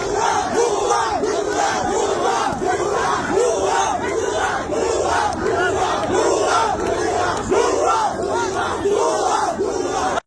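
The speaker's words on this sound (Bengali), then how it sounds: "দেখেন এরা কিরকম গুপ্ত গুপ্ত বলে স্লোগান দিচ্ছে" A large crowd chants a rhythmic two-beat slogan at Shahbag police station, loud and continuous, with many voices shouting in steady repeated cadence throughout.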